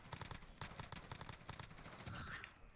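Rapid full-auto bursts from a Corvus Custom Marksman rifle in Warzone, a dense string of sharp close shots with short pauses between bursts, ending in a brief whooshing effect.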